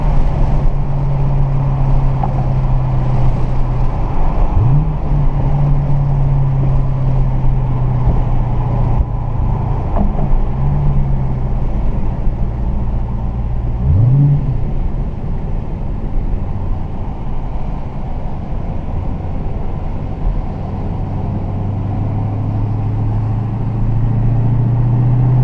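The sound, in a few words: Dodge Challenger Hellcat manual engine accelerating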